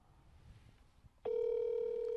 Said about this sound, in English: I was told to make a call before we got into this.